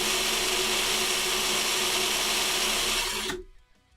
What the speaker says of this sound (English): put my drill in reverse.